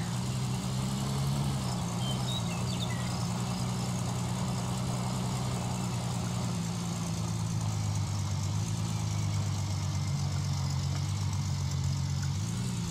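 A pickup truck in the Gold Rush video game idles steadily, a low continuous engine drone with a faint hum, holding even from start to finish with no talk.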